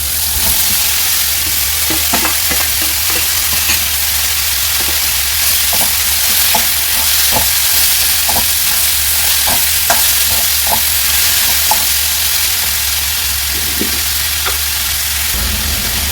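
Chopped potato, onion and tomato sizzle in a pan in a steady, loud fry, broken by scattered clinks and scrapes of stirring, with no one talking.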